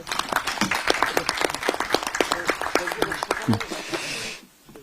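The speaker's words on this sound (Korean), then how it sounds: "박수 한번 치시죠." At a party floor meeting, a room of people applauds with distinct, brisk claps that ring close and loud amid a few murmured voices, then stops abruptly near the end, leaving quiet.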